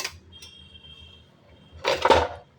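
A metal lid set onto a pot of potato and paneer pulao on the stove, a faint ringing clink at the start followed by a louder clattering metallic contact near the end.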